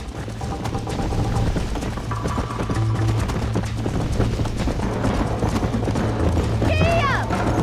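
Horse hooves clip-clop steadily in Red Dead Redemption, a continuous rhythmic trot at close range over game music and ambience, with voices talking around it.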